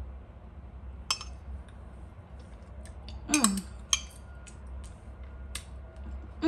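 A metal spoon clinks against a pot of creamy cauliflower mashed potatoes in a quiet kitchen, a few sparse, light taps scattered over several seconds with a small cluster in the middle.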